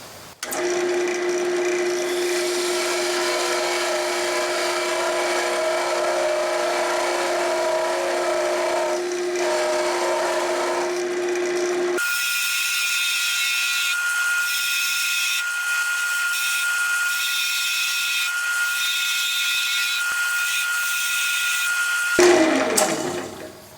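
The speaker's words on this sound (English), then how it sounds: "So now I'll get my thin parting tool and just make some grooves where these marks are." Thin parting tool cutting grooves into a wooden honey dipper spinning on a wood lathe, a steady whirring motor tone that shifts to a higher, scraping cutting sound partway through, then drops off at the end.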